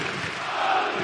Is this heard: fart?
no